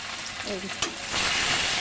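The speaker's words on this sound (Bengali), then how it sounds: "চলো মাছটা ভেজে নিচ্ছি" Fish frying in hot oil in a home kitchen, a steady crackling sizzle that swells louder partway through, with a brief clatter and a faint voice early on.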